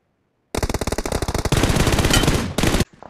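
Loud automatic gunfire in BGMI, a rapid close burst of rhythmic shots followed by a denser continuous stream of fire that stops abruptly, with no talking.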